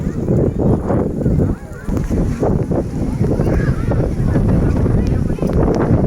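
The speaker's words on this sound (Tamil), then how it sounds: "காற்று பயங்கரமாக அடிக்குது." Strong wind buffets the microphone with a heavy, continuous low rumble, loud and steady throughout, with faint indistinct sounds in the background, at Vandiyur Park in Madurai.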